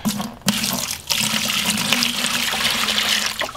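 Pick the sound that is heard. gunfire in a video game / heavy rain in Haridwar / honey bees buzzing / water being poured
water being poured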